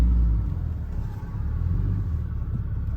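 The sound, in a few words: car driving around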